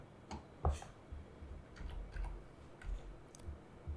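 Typing on a computer keyboard on a Windows PC, scattered soft key clicks in short irregular groups, faint and close over a low room hum.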